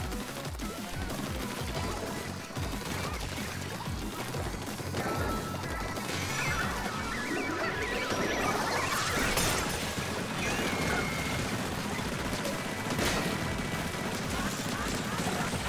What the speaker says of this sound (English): I've got a crab tank.